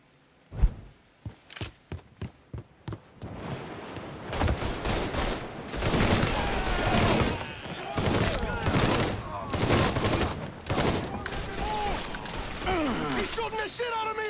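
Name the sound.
gunfire in Mafia III video game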